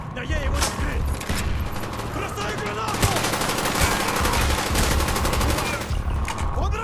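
Dense, continuous automatic gunfire and bursts in the PC shooter Call of Duty: Black Ops, loud and sustained throughout with explosive booms and mechanical clatter mixed in, alongside indistinct voices.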